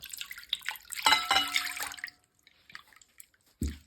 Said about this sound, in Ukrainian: Тепер я виливаю решту молока.